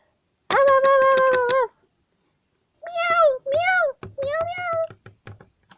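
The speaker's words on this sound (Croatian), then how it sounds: "Mijau, mijau, mijau. Kakva lijepa maca." A cat meows several times up close: one long drawn-out call, then a pause and a few shorter rising-and-falling meows.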